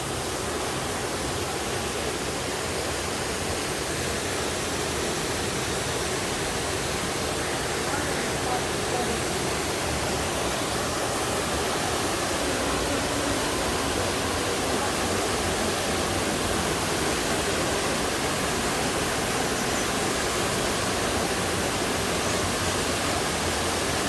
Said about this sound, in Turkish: Evet işte Düden Şelalesi.